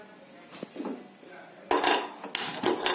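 A metal pan set down on a gas stove in a home kitchen, with a few sharp clanks and scraping knocks of cookware on the burner grate, close and fairly loud, without talking.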